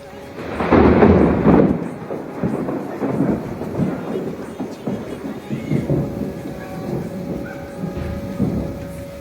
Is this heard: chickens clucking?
no